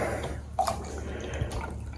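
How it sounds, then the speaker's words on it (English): A dog laps at water on a race morning, giving a couple of faint, brief wet splashes over a steady low background hum. "Dog lapping at the water."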